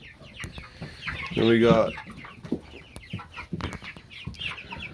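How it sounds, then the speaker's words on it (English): Chickens and roosters, including blue Australorps, cluck and squawk close by in a farm flock, with one loud drawn-out call standing out; someone speaks briefly over them. "These are some roosters."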